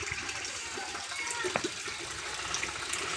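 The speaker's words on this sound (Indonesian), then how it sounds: "Airnya gemericik ya." Water trickles steadily at a traditional fish pond in a village in Ciomas, Bogor, a continuous close, moderately loud splashing flow with a few brighter splashes, no voices.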